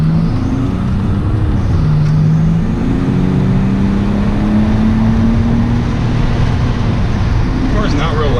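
Inside a Nissan R32 Skyline fitted with an HKS exhaust while driving, a steady low engine drone fills the cabin along with road and wind noise, the pitch wavering slightly with throttle; no speech over it.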